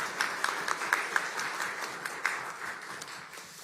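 Audience applause at a business roundtable in Ulsan welcoming the South Korean president, a moderate wash of clapping with a few louder claps standing out, steady and fading slightly toward the end.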